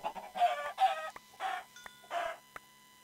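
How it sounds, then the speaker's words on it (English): Chickens in a video game cluck in four or five distinct bursts across a few seconds, each a close, throaty flurry, with sharp clicks in between and no talking. "More chickens!"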